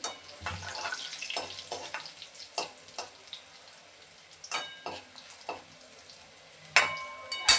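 Soft, steady sizzling of garlic frying in oil, broken by occasional clinks and scrapes of stirring.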